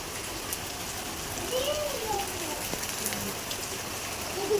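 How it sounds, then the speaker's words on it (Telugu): Steady rain falls throughout, a dense hiss with occasional drip-like taps, fairly soft and even, with no voices. "ఈరోజు వర్షం పడుతుంది"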